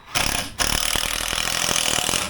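A power drill drives a 45mm screw through 40mm of wood, its motor starting with a brief stutter then running loud and steady with a grinding, ratcheting texture close by.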